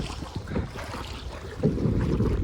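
Waves slap against a canoe on Brooks Lake in Wyoming as wind buffets the microphone, a steady choppy wash that swells louder near the end, with no talking.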